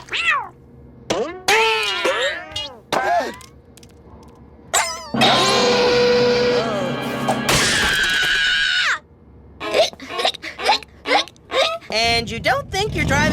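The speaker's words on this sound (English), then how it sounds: "are you still doing that irritating hiccup thing?" Cartoon character hiccuping in an animated episode, several sharp abrupt squeaks in a loose series among cartoon effects and music, mixed with close character talk.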